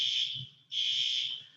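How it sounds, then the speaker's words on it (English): Building fire alarm under test, a loud piercing electronic tone sounding in two long bursts separated by a brief gap, with faint low background noise beneath. "We're testing the fire alarm."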